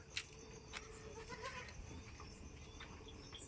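A goat on a farm bleats faintly against quiet outdoor background noise, with a few brief higher calls of other animals further off and no speech.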